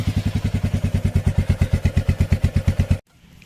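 A matte black Royal Enfield Meteor 350 motorcycle idles up close with a loud, even thump-thump beat of single-cylinder pulses, then cuts off abruptly near the end, leaving faint background noise.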